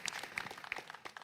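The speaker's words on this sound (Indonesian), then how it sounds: "Luar biasa tepuk tangan buat Mas Hervi." A short, dense burst of audience applause for a performer at an Islamic religious gathering, with many hands clapping close together.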